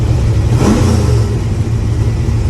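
A car engine revs briefly as the throttle is tapped during pre-event tuning, a loud close rumble swelling then settling back toward a rough idle.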